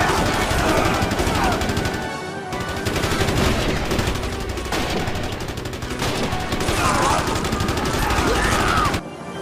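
A Maxim machine gun fires in long, rapid bursts, loud and close, with brief gaps between strings of shots and a voice talking over the din.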